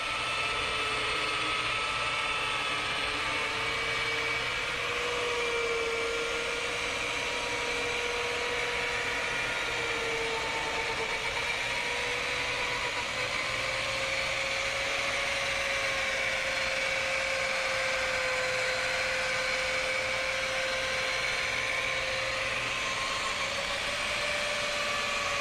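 Rotary polisher used for auto detailing runs steadily on car paint with light pressure, a continuous whirring motor tone that drifts slightly in pitch, moderately loud and close, with no talk over it.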